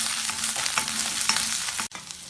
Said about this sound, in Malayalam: കുറച്ച് സമയം ഇളക്കി വഴറ്റാം.